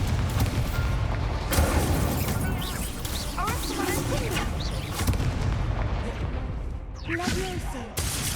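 Confringo fire spell in Hogwarts Legacy: repeated booming blasts and crackling impacts in quick succession amid busy combat noise, with a voice shouting over the action.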